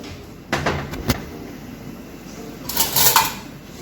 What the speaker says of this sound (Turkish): şöyle derin bir tavada, sıcak bir tava içine ilave ediyoruz